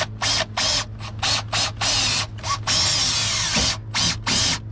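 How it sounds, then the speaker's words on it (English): Power drill pre-drilling screw holes into the wooden structure of an old Raven 195 boat, a series of short whirring bursts in quick succession with a longer run near the middle, close and loud over a low steady hum, no talk. "Pre-drilling the holes, real moment of truth."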